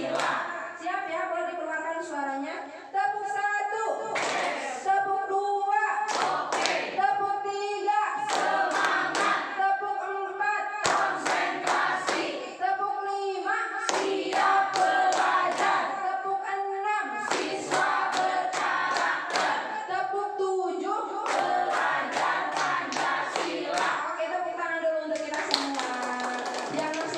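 A group of children in a school classroom keeps up a rhythmic clapping chant, with bursts of claps between loud sung counting phrases and steady repeating patterns throughout.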